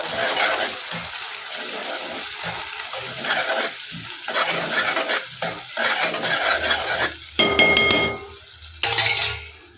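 Crushed garlic frying in a pan with a steady close sizzle, stirring scrapes and a few metallic clinks of a utensil against the pan near the end.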